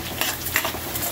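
Fried garlic stirred into a pan of cooking shrimp, a brief close burst of sizzling with scraping stir strokes.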